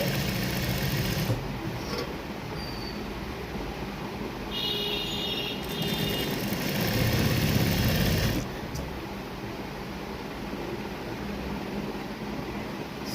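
A sewing machine stitches pintucks on a neck design, its motor whirring in a steady, close hum that swells and fades as stitching starts and stops, with no talk.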